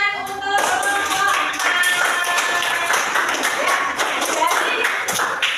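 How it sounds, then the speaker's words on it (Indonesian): Students in a classroom clap for a student group, a dense burst of applause that rolls on steadily for several seconds, with no speech over it. "Tepuk tangan untuk kelompok"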